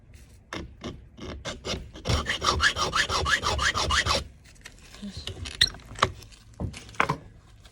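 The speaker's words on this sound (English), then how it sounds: "What I'm doing is just getting a mark on it so that I can work my cut into it." A brass key for an old-fashioned lock being filed: a few separate rasping strokes, then a quick, loud run of rhythmic file strokes, then slower, scattered scrapes and taps.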